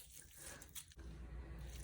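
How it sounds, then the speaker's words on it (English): Warm water trickles and drips into a sink, faint and close, with a brief soft rustle partway through and no voices. "The warm water feels good on a cold day."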